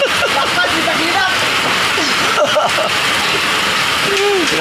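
Heavy rain pours steadily and loudly, a dense unbroken hiss that fills the whole stretch with no pauses.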